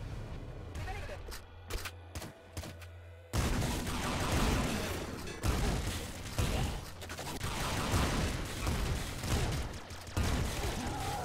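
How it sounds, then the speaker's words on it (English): Shotgun blasts boom in the video game Nuclear Throne, a sparse volley of separate shots followed by a dense, continuous burst of gunfire and explosions, loud and busy throughout. "That is quite the shotgun right there."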